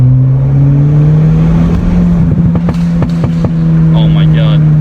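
Turbocharged engine of a 2016 Ford Fiesta ST hatchback drones steadily from inside the cabin, its pitch creeping upward under acceleration with a faint turbo whistle near the end, while people speak over it.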